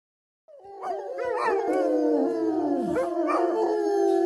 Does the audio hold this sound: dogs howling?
yes